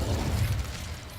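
Incendio fire spell cast in Hogwarts Legacy, a brief burst of whooshing flame with a low rumbling boom that trails off within about a second.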